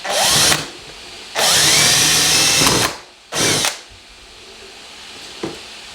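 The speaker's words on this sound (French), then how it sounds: "je vais piquer sa perceuse pour faire des trous" A handheld power drill bores small holes for a homemade Christmas decoration, running in three loud, close bursts of steady whirring with short pauses between them, then a faint click.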